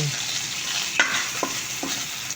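Garlic sautéing in oil in a pan for pork menudo, a constant close sizzle broken by a few sharp spatula scrapes and taps, with no voices.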